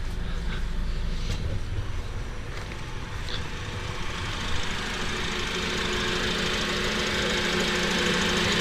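A Honda Element's 2.4 VTEC engine idles steadily, a loud continuous low rumble with a faint knocking texture and no pauses.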